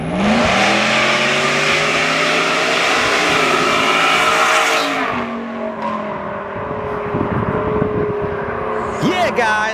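A Gen 6 Ford F-150 with a 3.0L engine and Whipple Stage 2 supercharger roars loudly and close while accelerating, a sustained heavy engine blare that drops off midway into a quieter rumble, with people talking over it.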